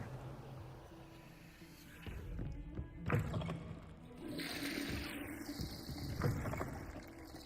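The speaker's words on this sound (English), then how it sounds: "Flush all the toilets." Toilets flushing inside the boys' restroom in the video game Hogwarts Legacy, a couple of rushing, gurgling water surges with soft thunks, moderately loud over faint background ambience.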